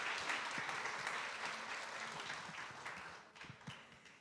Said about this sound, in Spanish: vamos a darle un aplauso a esa gente que está de vuelta.